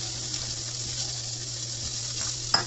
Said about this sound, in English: When the onions are browning